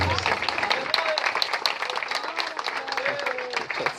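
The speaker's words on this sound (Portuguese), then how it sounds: "Aplaudam a palavra do Senhor." A church congregation applauding during a service, a dense, steady patter of many hands clapping together, close and sustained for several seconds.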